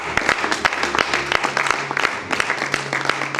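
A church congregation claps and applauds, a dense, steady burst of many hands close by that lasts throughout, with some voices mixed in.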